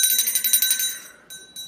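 A church-like bell rings in a rapid run of bright metallic strikes, then fades out, with two softer single tolls trailing after.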